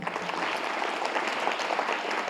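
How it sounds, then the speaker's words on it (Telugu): Students in an audience clapping together, a dense, steady burst of applause throughout, fairly close and even. "వెరీ గుడ్, క్లాప్స్ కొడదాం అందరికీ."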